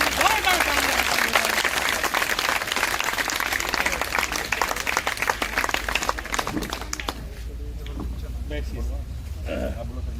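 Sustained applause from a crowd fills a school room, dense and steady, with some voices mixed in before it thins out near the end.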